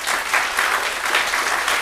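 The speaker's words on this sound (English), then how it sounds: "let's give one big old clap for the whole bunch here." Church congregation applauding during a Baptism Sunday worship service, a steady wash of many hands clapping together, fairly close and continuous with no talk over it.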